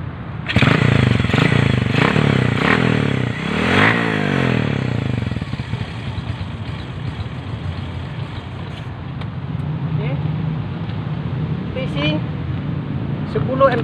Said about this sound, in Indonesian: Kita dengar bunyi enjin dulu ya.